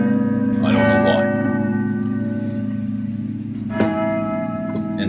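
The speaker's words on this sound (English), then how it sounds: "Nice bells that ring, It's like a Christian church" Church bells ring out in a video game as a gate opens, sounding like a Christian church; sustained, resonant bell tones with a fresh strike near the end, loud and echoing under a steady tonal backdrop.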